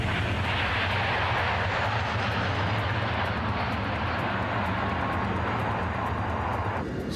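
A high-speed train at record speed, around 568 km/h, gives a loud, continuous roar like a jet airplane, dense and unbroken for the whole stretch.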